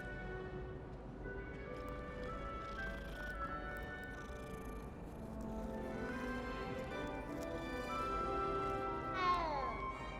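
A cat in the Hogwarts Legacy video game meows a few times over a steady bed of game music and ambience, close and moderately loud.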